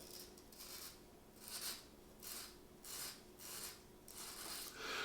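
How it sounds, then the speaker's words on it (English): A reed sanded with 220-grit sandpaper pressed on its corner, rasping in about six steady back-and-forth strokes, close and fairly quiet, with no talking. "I'm going to put the sandpaper on the corner, press down a little bit, and do that."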